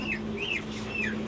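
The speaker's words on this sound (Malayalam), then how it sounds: "കോഴിയുണ്ട് കണ്ടോ" Chickens cluck in a few short rising calls at a night livestock market in Saudi Arabia, where ducks, quail, pigeons and rabbits are also sold, over a steady low hum of background noise.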